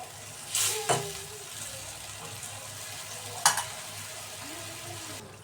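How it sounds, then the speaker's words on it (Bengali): Thin fish curry broth bubbling in a pot on the stove, a steady soft simmer with a couple of brief splashes and clinks as the fish go in; no talking. "তো এখন ঝোল তো ফুটে গেছে, মাছগুলো দিয়ে দিব।"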